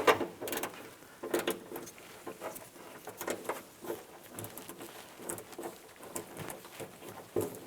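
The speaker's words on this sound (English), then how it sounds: "On the driver's side, use a 14mm socket." Ratchet with a 14mm socket working a bolt on the driver's side of a 2010-2016 Cadillac SRX, giving bursts of quick clicking pawl ratchets with short pauses between strokes, fairly quiet and close.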